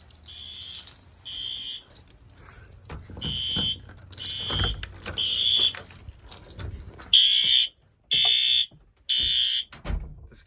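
Fire alarm system sounding during a test, giving loud intermittent electronic horn blasts in regular pulses, with quieter handling noise and background sounds in the gaps between bursts.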